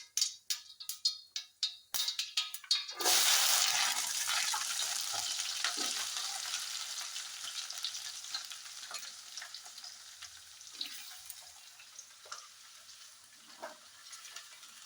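Okra is tipped into hot oil where mustard seeds have been tempered, first a burst of crackling pops, then a loud, steady frying sizzle that slowly settles with occasional stirring scrapes.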